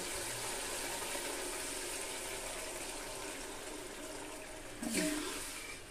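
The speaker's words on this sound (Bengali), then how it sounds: "এবার আমি অল্প পরিমাণ জল দিব।" Water is poured into a pan of simmering mustard hilsa curry: a steady close hiss and bubble, then a brief louder splash near the end.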